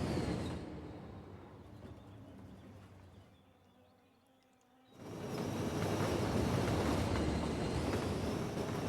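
Rumbling, broadband rush of a train passing at night in Cities: Skylines, loud and steady, dipping quieter for a moment in the middle before swelling back to a full roar.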